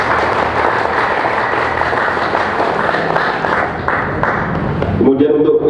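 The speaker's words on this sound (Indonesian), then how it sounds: "sekali lagi semuanya untuk tepuk tangan buat kita semuanya" An audience at a village head election vision-and-mission session in Tulungagung claps loudly and steadily for several seconds, then a voice begins speaking near the end.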